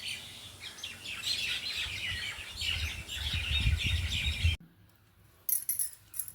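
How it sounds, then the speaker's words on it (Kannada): Several birds chirp and tweet outdoors in a busy, bright chorus of quick calls that breaks off abruptly, followed by a few scattered chirps. "ಪಕ್ಷಿಗಳೆಲ್ಲ ನೋಡಿ ಎಷ್ಟು ಶಬ್ದ ಮಾಡ್ತಾ ಇದೆ ಅಂತ"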